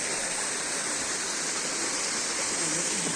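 Stream water rushes over slippery stones, a close, continuous roar with an even texture that holds steady throughout.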